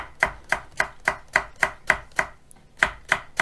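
A knife finely slices leek on a cutting board, a dozen crisp, evenly spaced chops close by with a brief pause near the end and no talk.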